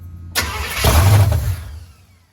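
A 1983 Chevrolet C10 pickup truck engine cranks, then briefly catches with a loud low rumble that swells and fades over a couple of seconds, with no voices.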